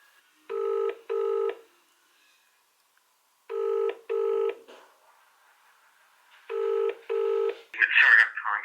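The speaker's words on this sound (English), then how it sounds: "So I'm going to call Mike to see what it was about" Telephone keypad dialing a call: three clear pairs of electronic touch-tone beeps, each pair short and evenly spaced, separated by quiet gaps, followed by a brief burst of rustling noise at the end.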